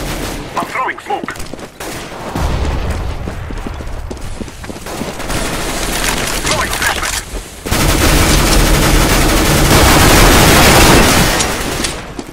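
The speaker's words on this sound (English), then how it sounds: "I'm throwing flashbang. I'm throwing smoke." In a Counter-Strike: GO ranked match, thrown flashbang and smoke grenades give loud sharp bangs followed by a long, dense hissing burst, mixed with other loud game noise and gunfire-like cracks.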